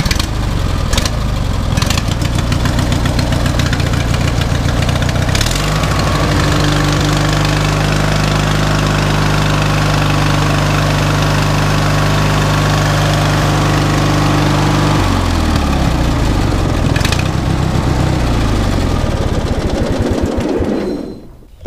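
A riding mower engine runs loud and close after a starter solenoid replacement, chugging with an uneven knocking idle, then revving higher for several seconds before settling back down, with no one speaking.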